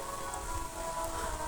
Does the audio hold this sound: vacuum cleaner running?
no